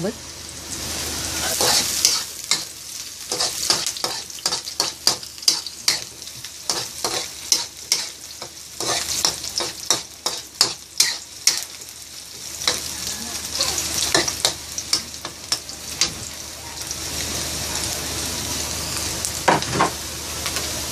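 Onion and garlic sautéing in a pan for ginataang kalabasa, with steady sizzling and frequent scraping stirs of a utensil against the pan, close and continuous.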